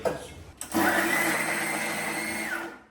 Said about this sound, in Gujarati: હવે આપણે આને છે ને મિક્સર કરી નાખીશું